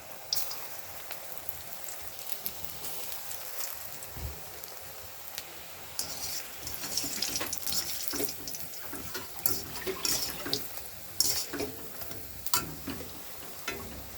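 Soybean and onion fritters (bora) fry in a hot wok of white oil and mustard oil, giving a soft, steady sizzle with scattered sharper crackles and pops that grow busier toward the end.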